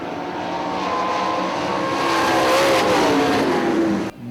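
Sprint race cars at Hartford Speedway Park drone loudly past on the track, a sustained engine roar that swells and falls as the field passes, cutting off abruptly near the end.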